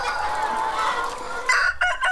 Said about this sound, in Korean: 이곳에선 닭을 널찍한 공간에 풀어놓고 기른다